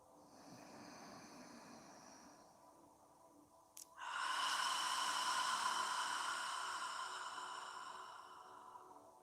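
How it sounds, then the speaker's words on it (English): Slow, deep yoga breathing: a soft hushed airflow, then after a brief click a louder, sustained airy breath that slowly fades, close and steady with no talking. "Try and take long, deep breaths. Slow inhale and slow exhale."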